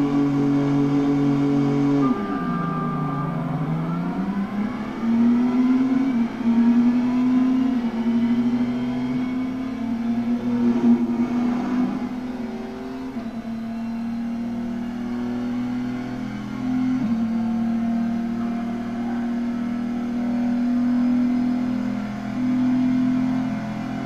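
Racing car engine in the 2003 video game Pro Race Driver, revving hard with a rising, falling pitch as the car shifts and accelerates, loud and sustained throughout with no talk.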